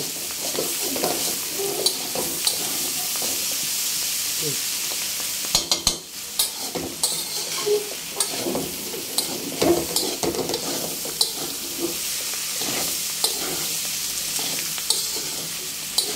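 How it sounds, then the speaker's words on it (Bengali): Bitter gourd (karela) being stir-fried in a pan over lowered heat, sizzling steadily throughout, with repeated scraping and stirring strokes and occasional sharper clinks of the spatula against the pan, close and moderately loud with no talk. "কিছুক্ষণ পরপর একটু নাড়া দিব, নাহলে নিচে লেগে যেতে পারে"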